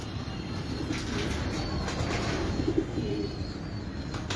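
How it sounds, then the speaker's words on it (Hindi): Pigeons at a Karachi fancy-pigeon club coo softly in low, murmuring calls under a steady outdoor background hiss, faint and close together. "बहुत ही आला और शानदार कबूतर हैं जी"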